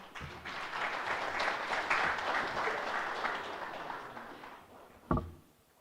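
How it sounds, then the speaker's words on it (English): Audience applause at a leadership conversation event, a steady round of clapping from a crowd that holds for about five seconds, then ends with a final sharp clap and fades. "We must always be very careful who we clap hands for before they present"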